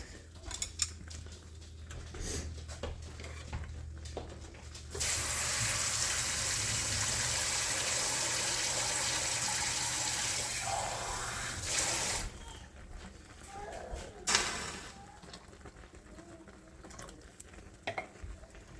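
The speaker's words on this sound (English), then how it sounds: "Added some more water in." Water pours steadily into a pan for several seconds, a loud gushing splash, followed by quieter clinks and stirring sounds.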